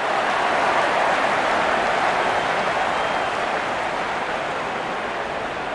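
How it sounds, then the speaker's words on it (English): A cricket stadium crowd cheers and applauds steadily throughout a UAE vs USA ICC Men's Cricket World Cup League 2 match in 2024, forming a loud, dense roar that fades only slightly toward the end. "The crowd is enjoying every bit of this action."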